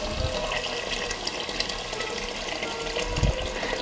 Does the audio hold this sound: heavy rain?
no